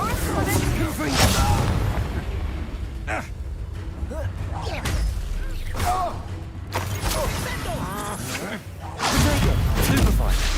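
Repeated Confringo fire-blast spells go off in Hogwarts Legacy combat, loud booming bursts and whooshes arriving every second or two over a dense bed of game noise, with voices mixed in.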